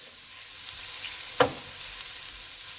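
Yellow squash sautés in a pan over medium-high heat, a soft continuous sizzle with one sharp stir or scrape in the middle.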